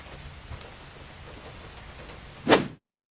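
Rain falls in a cartoon rainy-season scene, a steady soft hiss of drops that swells into a brief louder splash near the end before cutting to silence.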